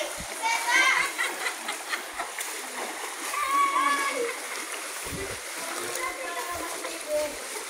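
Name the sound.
water splashing at Calima Falls waterfall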